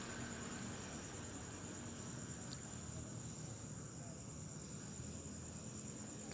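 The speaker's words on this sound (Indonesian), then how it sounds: "Kita di sini bisa mendengar suara-suara serangga" Steady insect chirping drones through the night near a tidy cemetery in Palembang, a continuous high whine with dense low background noise and no talk.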